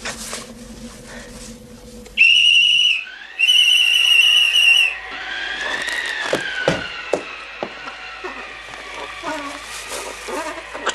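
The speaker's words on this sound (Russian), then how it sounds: "Кто свистел?" A whistle blown twice in a film excerpt: a shrill, steady high tone lasting under a second, then a longer blast, followed by busier background sounds and faint voices.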